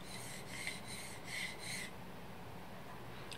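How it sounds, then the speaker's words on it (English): A blade is stroked back and forth on a sharpening stone in about five even, rasping passes close by. The strokes then stop, leaving quiet background hiss. "go ahead and sharpen as you normally would"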